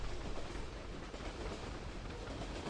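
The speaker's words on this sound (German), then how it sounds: "So, der Zug kommt." A train in the Brick Rigs video game rolls in steadily with a continuous rumbling rail noise and faint clickety-clack, loud and close throughout, with no talking.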